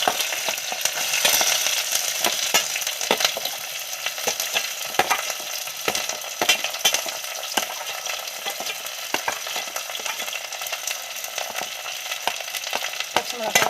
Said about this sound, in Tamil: இப்போ அது நல்லா பொரியட்டும்